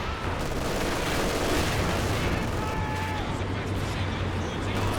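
A machine gun team in lockdown fires in Company of Heroes 2, sustained gunfire and distant artillery booms forming a steady roar of battle noise, with faint voice in the mix.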